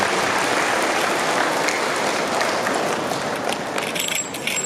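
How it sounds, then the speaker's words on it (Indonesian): At an Indonesian maritime academy graduation ceremony, a large seated crowd applauds in a dense, steady wash of clapping that fills the hall for several seconds. "mari kita tepuk tangan sebagai apresiasi"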